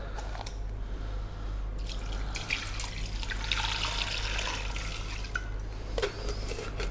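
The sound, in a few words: water being poured into cooking pot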